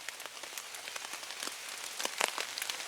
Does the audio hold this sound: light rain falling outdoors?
yes